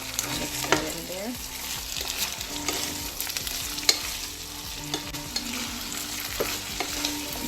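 Sauce with chili flakes and basil stirred in a pot while cooking jollof rice with coconut milk, a steady scraping and sloshing with soft sizzling beneath and occasional sharp clinks of the spoon against the pot, close and continuous.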